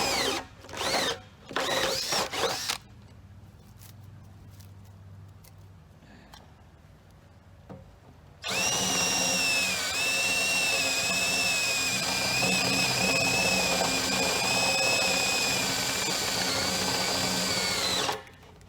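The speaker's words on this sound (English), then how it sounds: "I'm just going to take my drill here and make a few holes in the corner" A power drill bores holes into a plastic mixing station: a few short whirring bursts, a quieter stretch with faint handling noise, then a long, loud, steady high-pitched whine at close range.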